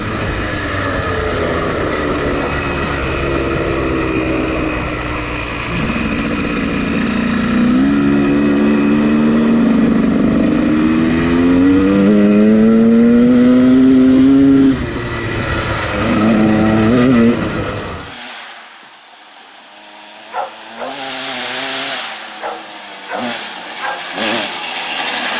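A KTM 200 two-stroke dirt bike revs repeatedly, rising and falling loudly up close, then rips away and fades into the distance, leaving faint intermittent engine bursts far off.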